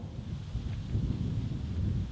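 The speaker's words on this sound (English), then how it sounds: "it's getting pretty windy" Low, rumbling wind buffets the microphone steadily, a dull continuous roar with no voices.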